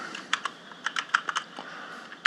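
Someone types a document name on a computer keyboard, a short burst of about a dozen crisp, close key clicks in uneven rhythm ending with a firmer final keystroke, alone in a quiet room.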